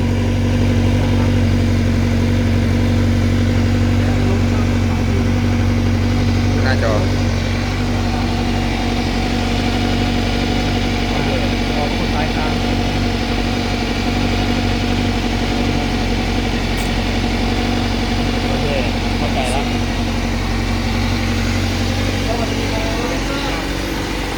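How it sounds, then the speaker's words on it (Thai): A Honda CBR1000RR-R superbike engine running loud and close for the whole stretch, a steady deep drone with strong low harmonics and no clear sharp revs standing out. "ฟังเสียงเบิ้ล ฟังเสียงเบิ้ล ฟังเสียงเบิ้ล"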